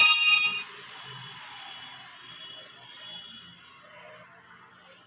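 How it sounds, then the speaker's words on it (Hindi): A short bright chiming notification tone from the StarMaker singing app rings out at the start, then fades into quiet low background noise. "अभी जो आपने आवाज़ सुनी वो स्टार मेकर से आई है।"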